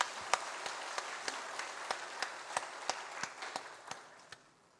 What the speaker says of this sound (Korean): 하나님께 감사의 박수도 함께 치도록 하겠습니다.